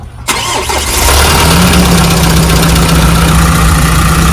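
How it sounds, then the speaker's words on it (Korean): A car engine cranks and catches, then settles into a loud, steady idle heard close up. "자, 시동을 겁니다."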